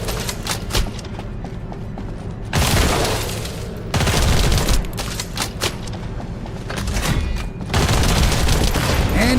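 Gunfire from a video game shooter, The First Descendant, aimed at an enemy's shield: dense, loud bursts of rapid shots in several long volleys with brief lulls between them, with no voices over the shooting.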